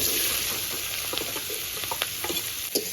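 Bottle gourd drops into hot oil already used for frying fish, where two dried chillies have been fried, and sizzles loudly and steadily with some stirring scrapes.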